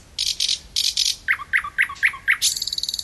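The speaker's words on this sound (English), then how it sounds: "If you'd like to hear more of this beautiful singing and you like thrush nightingales" A thrush nightingale sings loud, clear phrases alone: bursts of rapid, rattling high notes, then a run of repeated sharp whistled chirps, ending in a fast, even trill.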